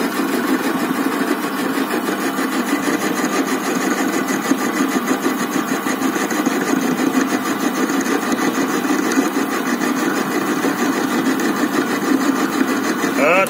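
A Jet BD-7VS metal lathe cuts steel, removing about 0.3 mm per pass, with a steady, even mechanical whirr and a fine buzzing that carry on without a break, close and fairly loud.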